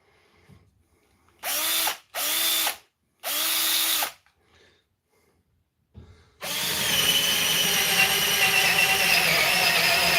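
A Parkside 10.8V cordless drill in drill mode whirs in three short bursts, then, after a pause, runs steadily at full speed as a loud, close, continuous motor whine.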